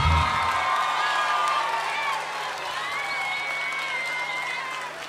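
Concert audience in Buenos Aires claps and cheers for a singer and his band, a steady wash of applause with scattered whoops that eases slightly midway and keeps going.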